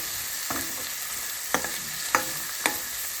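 Raw prawns frying in a pan with freshly added chopped onion and green chilli, a close steady sizzle broken by three or four sharp spatula stirs and scrapes, no voices.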